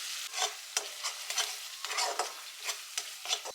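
Ginger garlic paste with chili, turmeric and cumin powders fries in a pan, a soft sizzle broken by repeated scraping strokes of a spatula at an uneven rhythm, close by with no voices.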